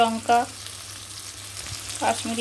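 Kashmiri chili powder hits a hot pan for a vegetarian paneer dish, giving a steady close sizzle and frying hiss, with a couple of brief clanks of a utensil stirring.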